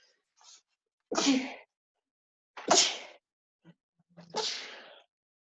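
Three sharp sneezes in a row, each preceded by a brief intake of breath, spaced about a second and a half apart, close and loud.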